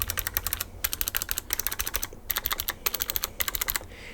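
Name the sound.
Razer Tartarus V2 gaming keypad keys being pressed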